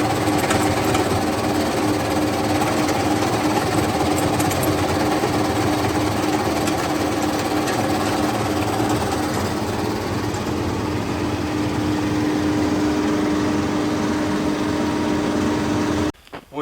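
Lewis Brothers Crustbuster machine working over poultry litter, a loud continuous mechanical engine drone with steady rattling that runs unbroken before cutting off abruptly at the end.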